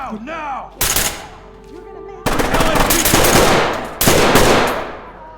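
Close, loud bursts of automatic gunfire in the tactical shooter Ready or Not, three sharp volleys of rapid shots separated by short lulls with faint voices and groans between them.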